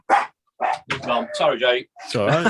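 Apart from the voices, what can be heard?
dog barking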